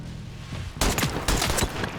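Heavy-recoil gunfire in the video game Every Day We Fight breaks out abruptly after a quiet start: loud, close bursts of shots with booming low thuds, repeating in rapid volleys to the end.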